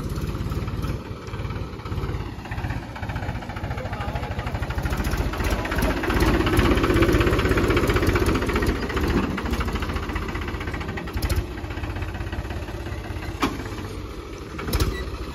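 A Mahindra 275 tractor engine idles steadily nearby for the whole stretch, a continuous low rumbling chug with mild vibration and a slight swell in the middle, with no talk over it.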